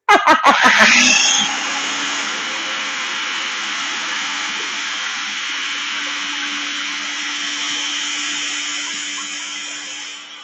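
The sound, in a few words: food processor mixing avocado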